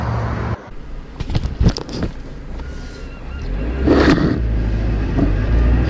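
A 2002 Mazda Miata on the move, its engine droning under heavy wind buffeting and road rush, with a couple of sharp knocks early on and a brief surge in noise near the end.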